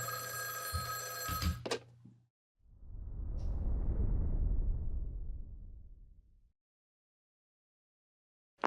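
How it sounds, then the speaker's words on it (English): A telephone ringing inside a video game: a bright electronic ring repeats briefly, then a long swelling rumbling whoosh rises and fades to silence. "Phone's ringing."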